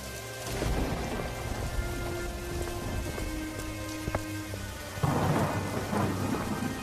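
Heavy rain pours down continuously, loud and close, with thunder rumbling through it and a sharper crack near the end.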